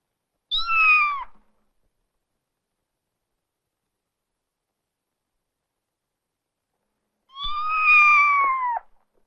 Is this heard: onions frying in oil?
no